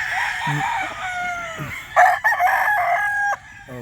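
A gamefowl rooster, a broad bull stag, crows loudly and close by, giving a long, wavering call with a shorter second burst.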